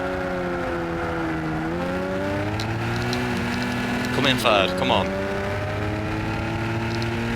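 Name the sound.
supercharged car engine in Gran Turismo video game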